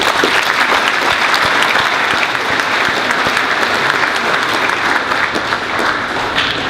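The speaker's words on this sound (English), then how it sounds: "Please give them a round of applause." Steady, dense clapping fills the hall as a school achievement assembly audience applauds, loud and sustained with no talk over it.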